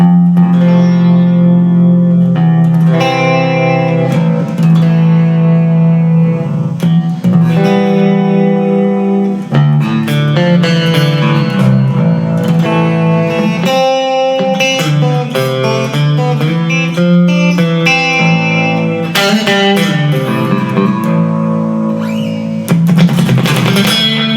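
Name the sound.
baritone electric guitar played in A tuning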